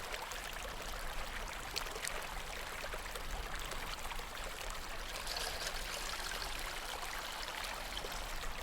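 Spring water flows steadily in a soft, continuous stream with gentle trickling, faint and even throughout with no voices.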